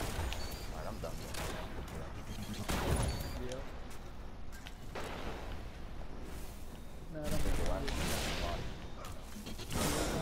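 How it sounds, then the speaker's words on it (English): Sniper fusion rifle in Destiny Trials: repeated sharp crackling shots and whooshing blasts amid continuous gunfire and clatter, with voices talking over the action. "It's a sniper fusion rifle."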